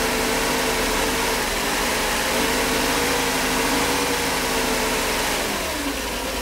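Mercedes 500SL engine, steady and loud, holding a continuous mid-pitched hum as the throttle opens slightly, with a faint rise then easing off near the end; no talking.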